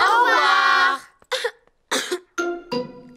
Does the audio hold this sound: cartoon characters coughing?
yes